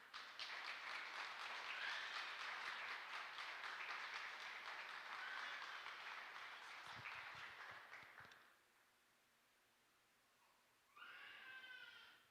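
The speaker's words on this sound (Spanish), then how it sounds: "Vamos a darle un aplauso a Dios" A congregation applauds during a church service: sustained, dense clapping for about eight seconds fades into near silence, then a shorter burst of clapping starts again near the end.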